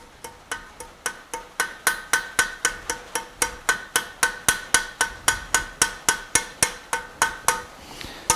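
A blacksmith hammers a nail on an anvil while forging a shovel, with about two dozen sharp, ringing metal strikes in a fast, even rhythm, loud and close, with no voices.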